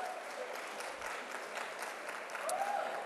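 Scattered applause from an audience at a university honors convocation, a soft, distant, steady patter of clapping throughout.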